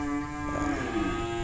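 Cattle moo in a long, low, sustained bellow with steady harmonics, close and fairly loud, heard without any talking over it.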